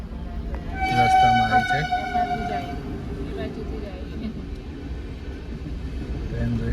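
A train horn blasts in a long sustained tone over the rumble of a passing train, with rail noise continuing after it fades.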